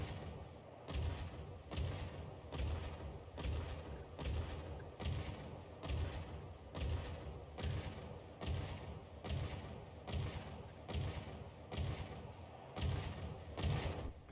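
Heavy turret guns fire in a video game, including a big turret shooting friendly fire, with a steady rhythm of deep booming shots about every three-quarters of a second, evenly spaced and continuing throughout at a constant distance.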